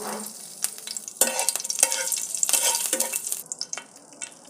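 A piece of bay leaf hits hot oil in a pan, setting off a bright crackling sizzle with a few sharp spits and utensil scrapes, loud and close, fading toward the end.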